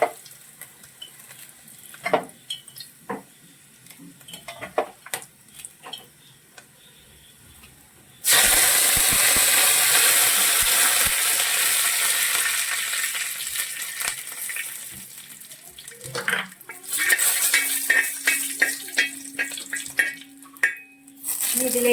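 Mustard seeds and dried red chillies frying in a pan of hot oil for a Kuttanadan duck curry: a loud, sudden burst of sizzling and crackling that stays strong, then eases into intermittent spattering and a few utensil clinks.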